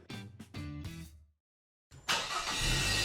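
A car engine starting in a fuel advert: a few short cranking bursts, a brief silence, then the engine catches and settles into a loud, steady running roar.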